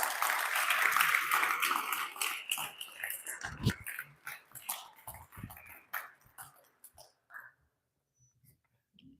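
Audience applause welcoming a guest speaker at a youth festival hall, loud dense clapping at first that thins out into scattered claps and fades to near silence.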